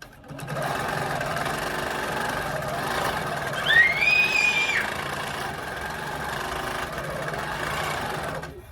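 A sewing machine hums steadily while meander-quilting, a continuous mechanical whir with a brief high squeak partway through.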